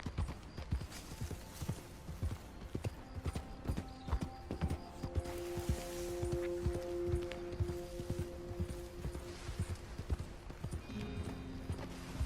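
Horse hooves clip-clop in a steady walking rhythm in Red Dead Redemption 2, moderately close, with soft rustling and tonal game music underneath.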